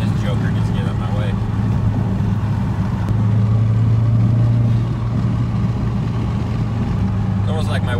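Subaru engine revved to about 3,500 RPM, a loud, continuous in-cabin drone that swells in pitch around the middle and settles back, steady road rumble throughout.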